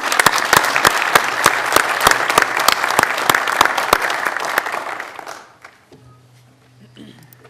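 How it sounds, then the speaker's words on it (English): An audience at a county commissioners meeting claps loudly and steadily for about five seconds, then the applause tapers off into quiet room noise with a few faint murmurs. "If we can give the young men applause."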